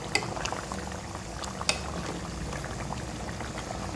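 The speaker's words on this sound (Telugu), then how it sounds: "ఒకసారి చికెన్ చూద్దాం ఎలా ఉడుకుతుంది." Chicken curry bubbles in a pot with a dense, steady burble of boiling liquid and a couple of brief clicks, close and unbroken by talk.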